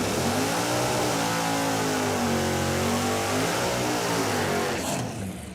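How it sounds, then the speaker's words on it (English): A barn-find Pontiac Firebird does a tire burnout, its engine roaring loud and steady at high revs with a harmonic drone close by, which fades off abruptly at the end. "All right, that was a pretty nice burnout."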